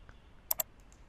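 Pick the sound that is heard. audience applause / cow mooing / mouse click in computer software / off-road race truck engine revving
mouse click in computer software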